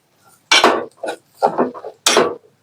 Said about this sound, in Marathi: आपण हे पकडच्या साहाय्याने व्यवस्थित पकडून व्यवस्थित मिक्स करून घ्या.